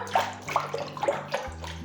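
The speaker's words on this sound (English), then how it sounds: "Just push it all underneath the water." Soft sloshing and splashing of water in a bowl as lettuce is pushed under and washed, several gentle swishes in irregular rhythm, close and fairly quiet.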